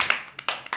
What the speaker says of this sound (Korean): 우리 서로에게 박수 한번 쳐줄까요?